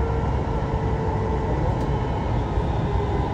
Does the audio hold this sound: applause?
no